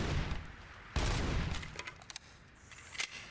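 Gunfire in the video game RoboCop: Rogue City comes as a faint burst of rapid shots, then several scattered single cracks over a low background hum.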